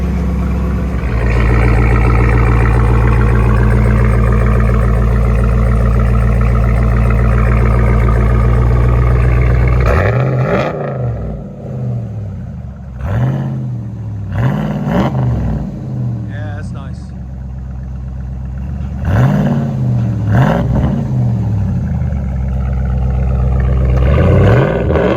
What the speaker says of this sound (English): Let it idle. Now it sounds like a truck.